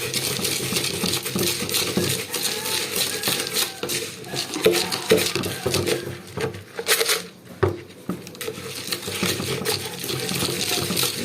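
Bird feed of flyer mix, safflower seeds and garlic oil being stirred by hand in a container, a steady close rustling and rattling of seeds with a few sharper clinks, continuous throughout.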